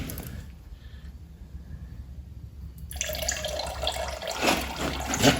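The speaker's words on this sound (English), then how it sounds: "And we're going to have coolant come out." Coolant drains out of a Farmall A tractor into a pan, a steady close splashing pour of liquid that starts partway through and builds louder, with no talking.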